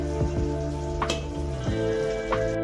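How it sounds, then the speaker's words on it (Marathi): A mixed vegetable masala bhaji cooks covered in a pan for the Bhogi festival dish, giving a soft, steady sizzle and a few faint pops and bubbling ticks. "तुम्ही बघू शकता आपली भाजी कशी शिजत आहे"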